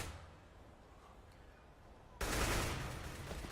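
Gunfire in a professional Counter-Strike match with AK rifles, played at a DreamHack tournament grand final: a loud, dense burst of shots starts abruptly after a quieter stretch of game ambience and keeps going to the end.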